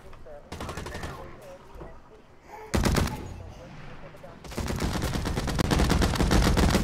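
Heavy assault rifle fire in the online shooter Blacklight Retribution: loud rapid automatic bursts, one short burst early, another near the middle, then a long sustained stream to the end, with game sounds between.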